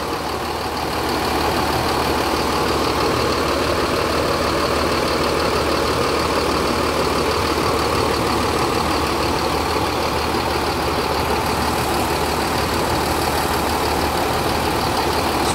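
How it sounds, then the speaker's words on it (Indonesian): A restored Po. Haryanto bus diesel engine idles smoothly, a loud, even, continuous rumble recorded up close with no breaks or talking. "Suara mesinnya nih sudah halus kembali ya."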